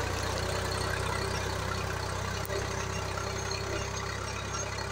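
A tractor pulling a soil-turning plough runs at a steady, continuous engine drone, close and even throughout with no voices.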